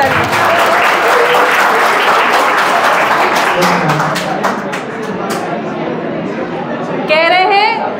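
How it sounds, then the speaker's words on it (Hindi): A university youth conference audience applauds loudly and steadily throughout, with chatter and voices mixed into the clapping, which swells again near the end. "एक बार और ताली, एक बार और ताली।"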